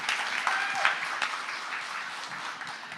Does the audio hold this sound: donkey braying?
no